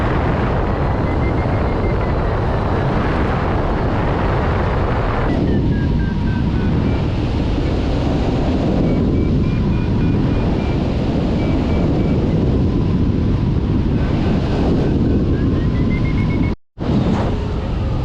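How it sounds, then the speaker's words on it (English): Steady, loud wind roar buffets the microphone during a hang gliding flight at the European Hang Gliding Championships, with a faint whistling tone rising and falling above it and a brief dropout near the end. "The wind went easterly, kind of blew me towards it. And now I'm battling a bit of a headwind."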